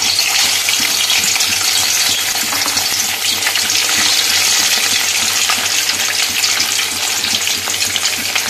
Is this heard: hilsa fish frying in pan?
yes